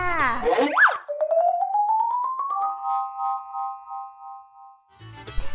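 A synthetic notification bell chime for a subscribe reminder plays alone: a quick rising bright tone sweeps upward, then settles into sustained ringing tones that slowly fade.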